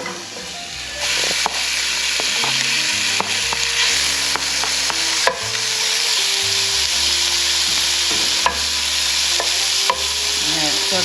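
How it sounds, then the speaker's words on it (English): Chopped bacon sizzling in a hot frying pan, a loud steady crackle and hiss running throughout with occasional pops and stirring knocks, close and uninterrupted. "we have our bacon all cut up, and we are going to add this to this pan"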